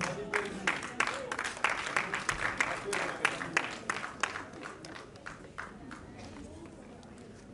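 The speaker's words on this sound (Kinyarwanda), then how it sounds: "reka tumukomera amashyi" An audience at a couple's award ceremony claps in a dense burst of applause that gradually thins and fades toward the end.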